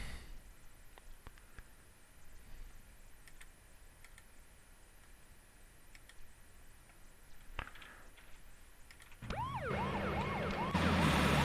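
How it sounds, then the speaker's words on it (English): An ambulance siren wails in the distance outside, starting faintly and rising into a louder, warbling sweep toward the end over a steady background hum. "before I got rudely interrupted by that ambulance"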